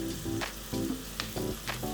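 Onions sizzle and fry steadily in a pan while curry is cooked, with a constant crackle broken by bursts of stirring and scraping close by.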